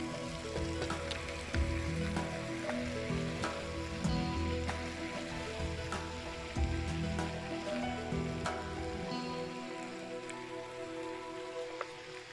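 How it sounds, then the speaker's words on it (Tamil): Raindrops patter steadily during outdoor cooking on a Tamil cookery show, a dense, even pattering with faint sizzling underneath that continues throughout, close and moderately loud, with no talking. "அழகாக மழை துளி ஒவ்வொரு துளியாக சின்ன சின்ன துளிகளாக எங்கள் மேலே விழுந்துக்கிட்டே இருக்குது."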